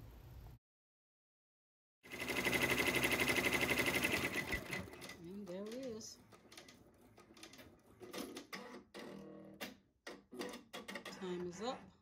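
A Babylock Array embroidery machine stitches in a magnetic hoop, sped up well past its real 1,000 stitches per minute into a dense, rapid, loud buzzing whir. Later the noise breaks into intermittent stitching and clicks with a person talking over it.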